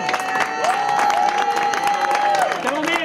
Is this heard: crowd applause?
yes